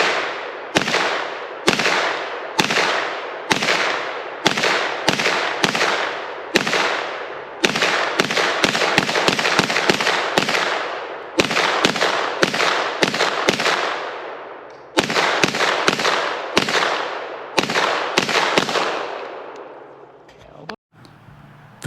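A Beretta PMX-S pistol fires 9mm Fenix ammunition in a long string of loud, sharp shots, mostly single reports with some quick doubles and short bursts, each ringing briefly outdoors.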